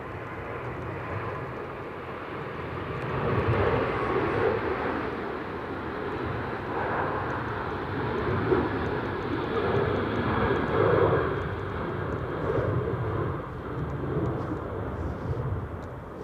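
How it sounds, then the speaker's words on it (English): A Ryanair airliner departs Manchester on a stormy day, the jet roar steady and fairly loud with gentle surges and fades as it climbs away. "we have a Ryanair just going off to Murcia in Spain"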